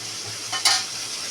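Onion and tomato fry in a tempering for biryani gravy, a soft steady sizzle broken by one quick scraping stir of the pan near the end.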